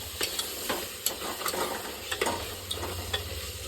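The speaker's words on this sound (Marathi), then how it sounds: "याच्यात दही टाकून झाल्यावर आपण दही हलवून घेऊ." A spoon stirs curd into mutton gravy in a pot, making a run of wet scraping strokes and clinks over a low sizzle, close and steady.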